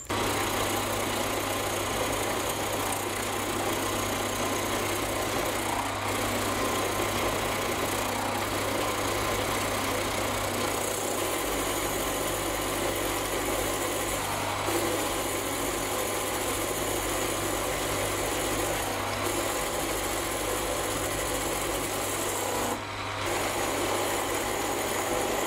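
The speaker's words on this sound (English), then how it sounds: "Finally, I'll machine some mild steel with some carbide." A machine steadily cuts mild steel with a carbide tool held in an imported collet chuck, making a continuous, fairly loud drone of motor whir and cutting noise with a low hum underneath.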